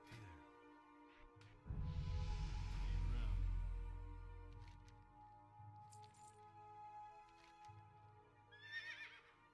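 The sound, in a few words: horse neighing in a video game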